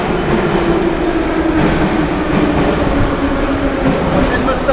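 Steady rumble of a subway train in motion, with continuous rail noise and a faint high whine throughout.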